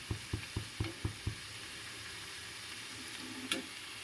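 Bitter gourd slices fry on a high flame, a steady broadband sizzle with a quick run of six stirring knocks at the start and one sharper scrape near the end, close and moderately quiet, with no talking.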